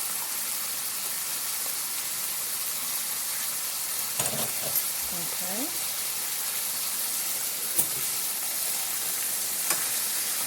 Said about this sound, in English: the steaks are cooking good